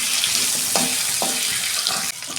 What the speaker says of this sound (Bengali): আলুটা 2 মিনিট আমি ভেজে নেব।